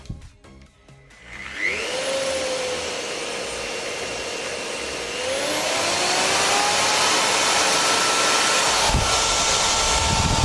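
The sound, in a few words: GTM MX-100/1600EM construction mixer running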